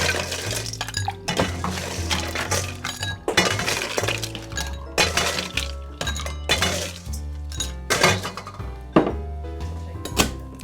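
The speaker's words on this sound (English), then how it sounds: "Add some ice." Ice cubes tumble into a Devil's Tail Martini with grenadine, giving a run of bright glassy clinks and knocks spread through the clip over steady low background music.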